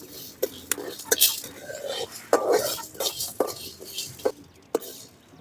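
Black pepper and garlic fry in a pan for a rasam, with a faint sizzle under sharp clinks and scrapes of a spoon stirring against the metal. A soft voice speaks at times.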